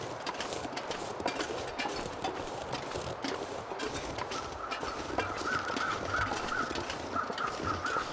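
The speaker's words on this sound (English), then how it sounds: "That's the birds over at Max's last stand" Crows cawing in the wintry survival game The Long Dark, a run of repeated harsh calls from a few birds at a distance, over a steady background of wind and footsteps crunching through snow.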